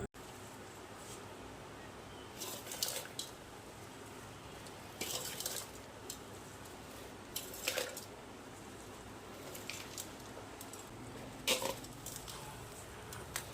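A ladle stirs an onion and garlic vadagam mixture with soft, faint squishing and patting sounds. A few slightly louder scrapes stand out over a low, steady background.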